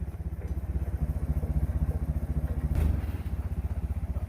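A forklift engine revving under throttle, a close, loud, rapidly pulsing mechanical drone with a steady rhythmic chug and a brief clatter midway, no voices.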